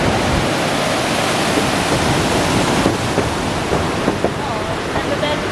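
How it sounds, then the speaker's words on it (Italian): Dense, roaring rush of the Peričnik waterfall in Slovenia fills the scene continuously, with faint voices briefly audible underneath. "Qui si sente un bel rumore di cascata"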